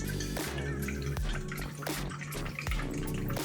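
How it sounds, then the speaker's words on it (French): White wine vinegar pours into a salmon salad as a continuous splashy liquid stream, with a few soft knocks from the container against the bowl. "On ajoute le vinaigre de vin blanc."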